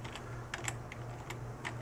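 Light keystrokes tap on a computer keyboard, a handful of quick, soft clicks in an irregular rhythm over a steady low hum, with no talking.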